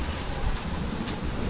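Rain falls in the open-world video game Genshin Impact as a steady, even hiss with low rumbling beneath it, continuous and without speech.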